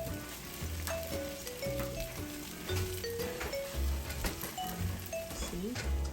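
Eggs for pineapple shrimp fried rice fry in a pan with a continuous crackling sizzle, partly masked by loud background music.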